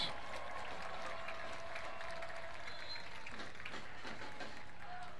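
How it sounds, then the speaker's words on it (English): A soccer crowd at a Chattanooga match applauds a substituted attacker, a steady wash of distant clapping from the stands with faint crowd murmur underneath, continuous and even throughout. "A well-deserved round of applause for Rodriguez."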